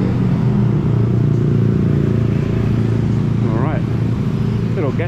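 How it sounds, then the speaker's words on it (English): Motorbikes and other traffic rumble steadily past on the main road through Sanur Beach, Bali, at night, a loud continuous engine drone with a couple of rising revs near the end. "Motorbikes."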